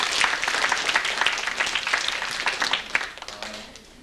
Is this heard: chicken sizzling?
no